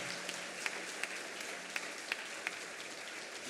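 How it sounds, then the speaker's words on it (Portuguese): A congregation at a Catholic Mass on the Solemnity of Saint Joseph claps steadily through the homily, a dense, moderately distant applause with a few sharper individual claps standing out. "Aplauda São José"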